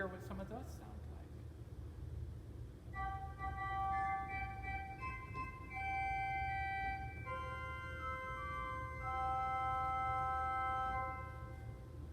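Soft, very high pipe organ tones sustain as long held notes, several pitches overlapping and changing slowly against a steady low rumble, with no talking.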